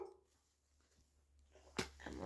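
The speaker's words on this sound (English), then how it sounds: "Stop that barking." A dog barks once sharply near the end, close and loud, after a quieter stretch with faint whimpering and room noise.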